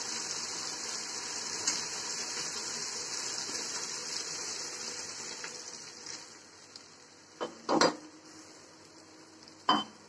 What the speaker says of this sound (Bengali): তো এখন আমি আরো কিছুটা নারকেলের দুধ দিয়ে আবার কিছুক্ষণ কষিয়ে নেব।